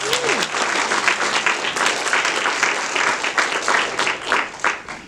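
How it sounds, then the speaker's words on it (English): Audience at an environmental symposium applauding a keynote speaker, steady loud clapping from a large crowd throughout, with a brief voice near the start. "Let's give her another round of applause."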